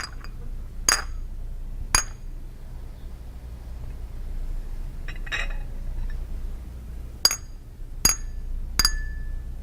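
Fine china cup or plate tapped, giving about seven bright, ringing clinks spaced irregularly, each with a short shimmering decay over a low background hum.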